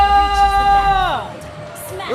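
Arena crowd at a Mobile Legends (MLBB) esports match between BTR and RRQ, cheering and whooping loudly for about a second before the roar drops off, with a caster's voice and music tones over it.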